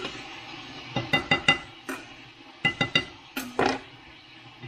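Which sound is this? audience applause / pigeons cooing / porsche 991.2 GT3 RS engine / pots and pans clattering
pots and pans clattering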